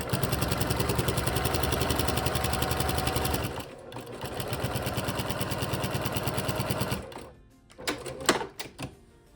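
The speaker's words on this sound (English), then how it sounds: "we'll just take it back to the needle and finish sewing that on" A sewing machine runs steadily, stitching a quilted car seat poncho for about seven seconds with a fast, even mechanical rhythm, then stops with a few short bursts and clicks near the end.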